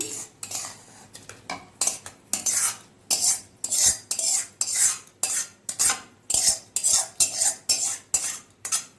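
Cooked Maggi noodles with egg are scraped from a pan into a bowl, a series of rhythmic metal spoon strokes clanking against cookware, close and fairly loud, with no talking.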